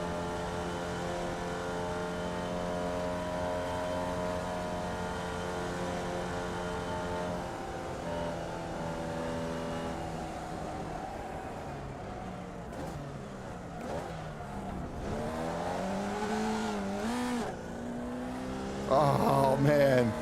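Race car engines drone at Daytona in iRacing, a sustained tonal roar with layered harmonics that bends and shifts pitch as cars draft close, rising louder near the end.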